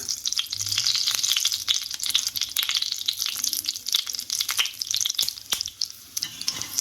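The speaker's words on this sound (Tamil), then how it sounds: "கொஞ்சம் சோம்பு, இது தெரிக்கிறதுனால க்ளோஸ் பண்ணிக்கலாம்" Fennel seeds, dried red chili and fenugreek fry in hot oil for a tamarind curry, giving a dense, close, crackling sizzle with scattered pops throughout; no one speaks.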